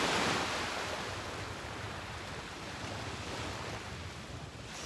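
Ocean waves roll onto a beach in a soft, continuous wash of surf, with light wind rumbling across the microphone and no voices.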